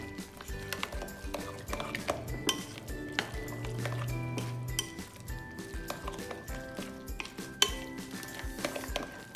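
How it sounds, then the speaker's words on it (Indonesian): Pempek dough ingredients with spring onion being stirred in a bowl, a busy run of clinks, scrapes and clatter from utensil against the bowl, close and steady throughout. "Nah, kita aduk ya."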